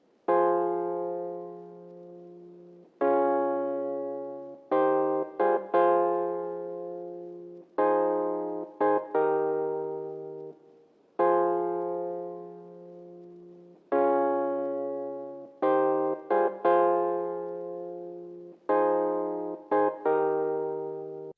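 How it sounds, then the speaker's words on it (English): An electric piano from the Velvet plugin in FL Studio plays a slow lo-fi chord melody. Sustained chords alternate with quick repeated stabs, and each one decays cleanly with nothing else in the mix. "And for this electric piano, I just use Velvet,"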